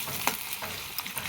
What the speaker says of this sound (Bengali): আমাদের রান্না হচ্ছে তো আলু এখন ভাজা হচ্ছে,